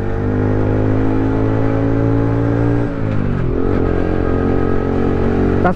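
Revving from an Aprilia 50cc scooter with a loud aftermarket exhaust: a harsh, close engine note holds high, dips sharply midway, then climbs again, loud and unbroken with no voices.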